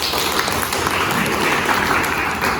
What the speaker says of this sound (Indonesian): tepuk tangan untuk Wakil